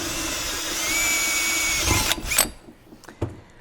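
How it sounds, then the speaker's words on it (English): A power drill with a 1/4-inch bit bores through a Land Cruiser front differential part, a steady close whine for about two seconds that winds down and stops, followed by a few clunks of handling. "We'll just finish that off with a 1/4-inch drill bit so we can get a zip tie through there"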